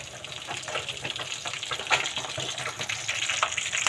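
Bean sprouts (toge) fry in a pan with a steady, close sizzle and crackle, punctuated by occasional stirring scrapes and louder pops throughout.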